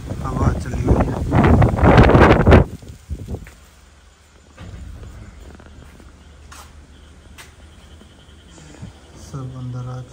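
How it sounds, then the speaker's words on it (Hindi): Strong storm wind batters a Pakistani village. A loud, roaring gust buffets the microphone for the first couple of seconds, then drops to a low, steady rumble with faint rustling and a few scattered knocks. "ये आप देख सकते हैं इतना ज़्यादा हवा चली हुई है।"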